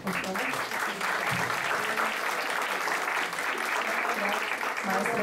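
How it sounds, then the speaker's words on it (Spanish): An audience at an academic cataloguing and metadata conference applauds the speakers with dense, sustained clapping that stays even and loud throughout. "les pido un aplauso para nuestros"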